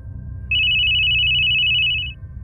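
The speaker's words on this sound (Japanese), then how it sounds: "彼女の着信音。" A mobile phone ringtone plays from music on the handset to fake an incoming call: one steady, bright electronic tone lasting about a second and a half, loud and close over a low background hum.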